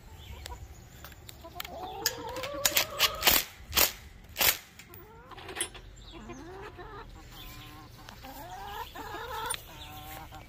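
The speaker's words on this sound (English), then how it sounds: "What's up, chickens?" Chickens cluck and squawk nearby in their run, a busy run of clucks with a few loud, sharp outbursts in the middle.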